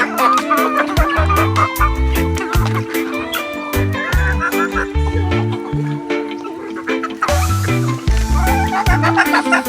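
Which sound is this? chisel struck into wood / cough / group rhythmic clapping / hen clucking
hen clucking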